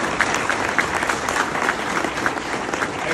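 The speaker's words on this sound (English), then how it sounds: "you all deserve a round of applause for your efforts as well" Steady applause from a crowd at a college coach's retirement ceremony, many hands clapping continuously at an even loudness with no voices standing out.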